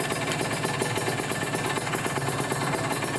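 Kawasaki Ninja 150 RR two-stroke motorcycle engine idling with a misfiring, sputtering fault, a close, steady rapid buzzing rattle with a fast regular pulse and no talk.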